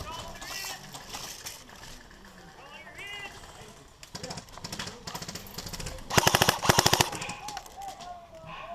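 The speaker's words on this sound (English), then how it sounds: "I just shot randomly to see if I could see anyone." Airsoft guns fire rapid bursts of shots during an outdoor airsoft game in Switzerland, the sharp clattering strings coming mid-clip with players talking over and between them.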